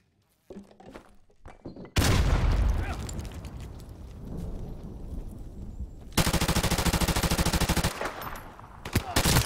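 M16 rifle fire in a video game comes as loud sustained bursts of rapid automatic shots, broken by a short lull, with sharp single reports and a few faint clicks at the start.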